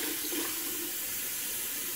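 Water runs steadily from a bathroom tap for rinsing during a shave, a constant close hiss and splash that lasts the whole two seconds without pause.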